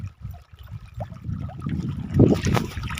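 Water sloshing and splashing as people play in a dam reservoir in Odisha, soft irregular splashes building to a louder burst of churning water, set against an outdoor wash.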